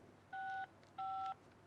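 Two telephone keypad tones sound in quick succession, each a clear steady beep lasting about a third of a second, alone over a quiet background.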